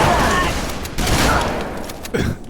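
Bursts of gunfire in the Halo video game, a dense loud crackle of shots lasting a few seconds with a sharper blast near the end, mixed with voices from the game or players.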